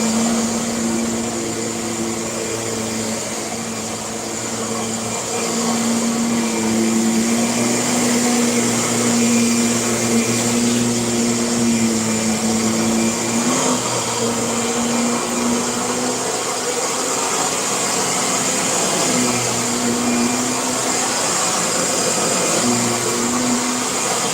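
A vacuum cleaner with over 150 nozzle CFM runs continuously for the whole stretch, a loud steady motor whine with a slight pitch wobble and no voices over it.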